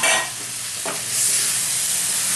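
Hot water poured into a pan of frying spices and cumin powder for a thin Bengali hilsa fish curry, a loud burst of sizzling that settles into a steady hiss, with no talking.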